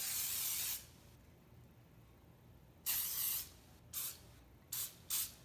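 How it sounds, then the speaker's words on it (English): Cooking spray hisses from a can as a loaf pan is greased over a sink, in one long burst followed by several shorter bursts with quiet gaps between, close and clear. "you'll need some spray to go ahead and grease it"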